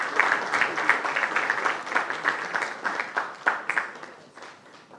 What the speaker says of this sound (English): Can we have a round of applause, everyone?